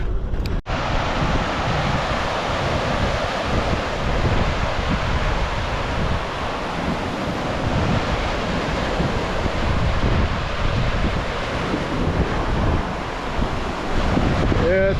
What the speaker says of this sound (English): Some of these waves are coming in at 4 feet.